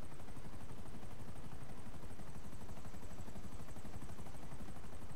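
Helicopter in GTA Online, a steady loud rotor chop pulsing throughout with a dense low thrum and a high whine on top, no talking.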